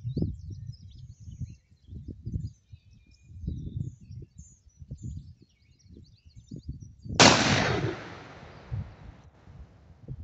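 A single loud, close blast from an H&R 10 gauge shotgun fired outdoors, booming then decaying into echo after a stretch of quiet low rustling and faint birdsong.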